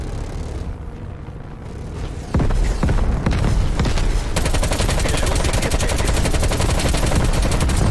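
Rapid gunfire from the video game Call of Duty: Black Ops, starting with scattered shots and then settling into dense, sustained bursts. The shots are loud and fill the clip without a break after the first few seconds.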